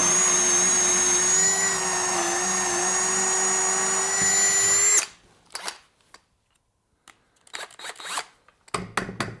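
A Bauer power drill boring a 3/8-inch hole into a wooden table, a loud steady whine for about five seconds that then stops, followed by scattered clicks and handling noises.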